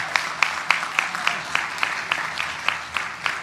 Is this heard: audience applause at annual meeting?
yes